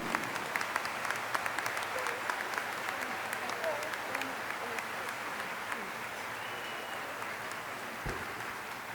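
University spring commencement audience in a steady round of applause, a dense, even wash of clapping throughout with a dull thump near the end.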